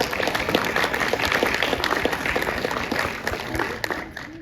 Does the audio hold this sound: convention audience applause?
yes